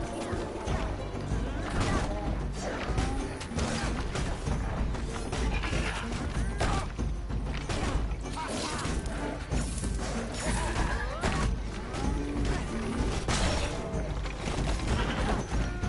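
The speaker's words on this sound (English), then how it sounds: "looks like that vacuum vortex took that big puppy down quite handily here" A vacuum vortex ability strikes enemies in the action game Ravenswatch, a dense, continuous wash of crashing impacts, whooshes and clattering combat effects layered over busy background game audio throughout.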